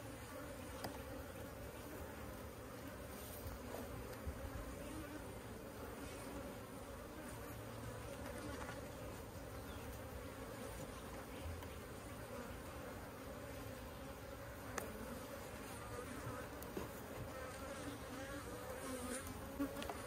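Honey bees buzz steadily around an open hive during queen rearing, a dense continuous hum of many insects filling the whole stretch with no talking.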